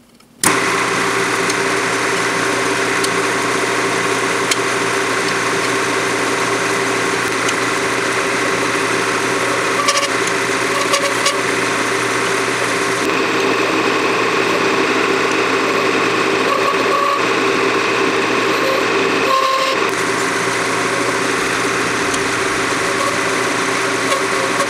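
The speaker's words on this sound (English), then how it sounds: "I'm going to take the skew chisel and just scrape it to refine it." A skew chisel scraping a cast resin pen blank spinning on a lathe: a steady, loud motor whine and hum with faint rasping scrape throughout, after an abrupt start, and no voices.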